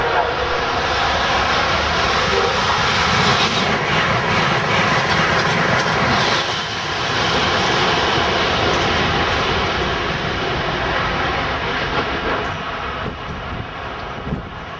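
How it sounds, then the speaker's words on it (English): An Amtrak New York to Boston passenger train roars past at close range near Mansfield, a continuous loud rumble and rush of wheels that holds steady before easing slightly near the end. "Train 2290 was the first train, New York to Boston train"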